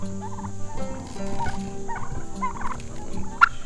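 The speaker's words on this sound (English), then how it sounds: "Do we have a turkey out?" Turkey gobbling on a small farm, a rapid burbling gobble repeated a few times amid other fowl noise, fairly close with a sharp brief note near the end.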